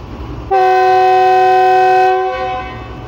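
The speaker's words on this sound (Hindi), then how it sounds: "ये डिपार्ट कर रही है डिग रोड स्टेशन से 6 डॉन ग्रीन लाइन एक्सप्रेस।" A GEU-40 diesel locomotive leading the 6DN Green Line Express out of a station sounds one loud, steady horn blast of about one and a half seconds, then a fading rumble, with no speech.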